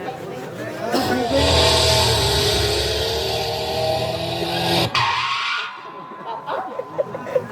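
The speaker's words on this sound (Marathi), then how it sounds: "आमच्या भाटकीच्या पुढे गाडी थांबली." A car arrives outside a house at night. It pulls up loud and close with a long tyre-skidding rush, comes to a stop, then gives way to quieter scattered knocks and movement.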